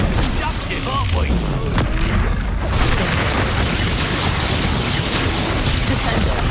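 An Expulso explosion spell booms in the Hogwarts Legacy video game, part of a loud, dense stretch of blasts and rumbling combat noise that carries on for several seconds without letting up.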